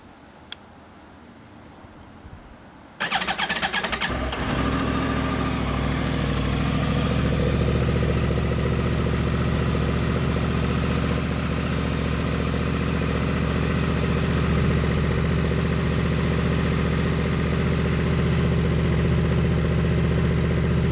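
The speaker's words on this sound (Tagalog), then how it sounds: "O sige, start ko yung makina." A stock-exhaust Yamaha YZF-R1 superbike engine cranks and starts, then keeps up a loud, steady idle with a low, even rumble from the exhaust.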